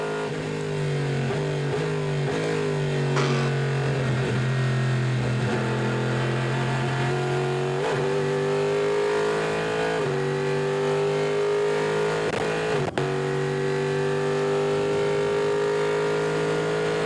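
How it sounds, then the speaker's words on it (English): A Chevrolet Corvette V8 race car engine at the Rolex 24 at Daytona roars steadily at high revs, its pitch climbing and dropping briefly through gear changes, loud and close. "The magic sound of a V8 Chevrolet Corvette at full song."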